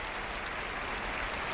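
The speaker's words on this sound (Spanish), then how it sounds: "reciben también el aplauso cerrado de los vallisoletanos" Crowd in Valladolid applauding during an Armed Forces Day 2012 ceremony, a dense, continuous wash of clapping heard alone and without voices.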